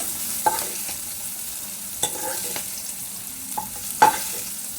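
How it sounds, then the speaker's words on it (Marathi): Cluster beans (gavar) roast in oil in a kadhai with a soft background sizzle, punctuated by a few sharp scrapes and knocks as a spoon stirs them. "तेलात भाजली की चांगली शिजते गवारी त्यामुळं भाजून घेते गवारी"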